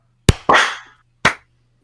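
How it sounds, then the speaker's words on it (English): Loud, close hand claps, a sharp first one, then a second with a ringing tail, and a third a moment later, all in a quiet room before recording starts. A faint low hum sits underneath. "Should we do a clap?"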